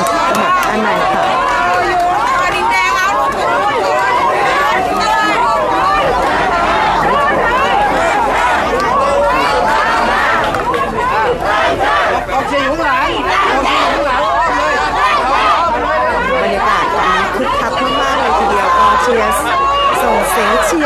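A large crowd cheers and chatters loudly and continuously at a Ruam Thai Sang Chart party candidate registration event, a dense, unbroken roar of voices with no pauses.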